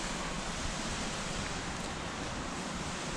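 Rain beginning to fall, heard from inside an abandoned shopping mall in Warsaw: a steady, even hiss of broadband noise that fills the whole stretch with no voices.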